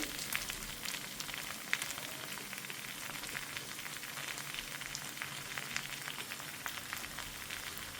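Brinjal with grated fresh coconut roasts in a pan, a soft steady sizzle with fine crackling pops running throughout, quiet and unbroken by talk.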